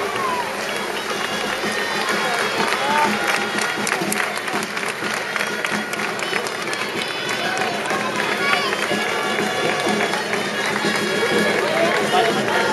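Sustained, dense crowd applause at the opening ceremony of the 2014 Cava Week in Sant Sadurní d'Anoia, where people on balconies offer the grape must to the queen. The clapping rolls on steadily throughout, with voices talking over it.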